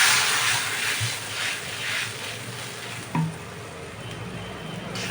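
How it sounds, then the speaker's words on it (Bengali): Water is poured into a pan of frying spice and tomato paste for a pomfret fish curry, giving a loud hissing sizzle that gradually eases, with one sharp clink from the pan midway. "মশলাটা কষে এসছে, এবার আমি এর মধ্যে জল ভরে দিলাম।"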